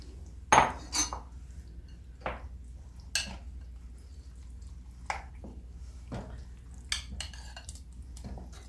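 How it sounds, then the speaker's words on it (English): Lobster and crab Newburg being stirred in a pot, a spoon knocking and scraping against the metal in scattered clinks every second or so, fairly close over a quiet room hum with no talking. "Go ahead and keep on stirring."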